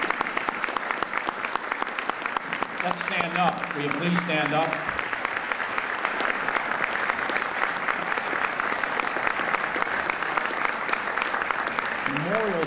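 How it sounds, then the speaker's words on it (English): Sustained applause fills a luncheon hall honoring armed forces members in Chicago, steady clapping throughout while a voice speaks over it asking people to stand. "Let's give them a round of applause and thank them."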